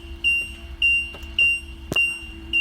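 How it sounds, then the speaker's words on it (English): An RV leveling system sounds a warning while the car is running: a repeating high electronic beep, about five short tones at a steady rhythm roughly every half second, close and clear, with faint clicks and no talking. "this is still going to beep at you because we have the car running"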